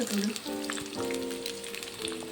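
Eggplants frying in oil give a soft crackling sizzle, with a person talking over it in steady tones for most of the stretch.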